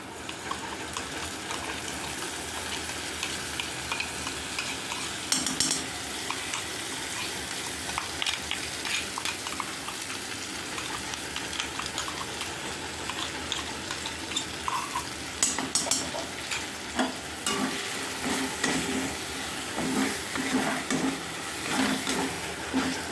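Spice paste for an egg dopiaza fries in oil with a continuous broad sizzle, broken by intermittent stirring scrapes and light utensil knocks, close and steady with no speech.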